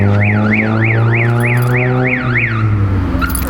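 A 2001 Lada Samara hatchback's car alarm wails in a rapid rising-and-falling siren pattern, loud and close, over a steady low engine hum.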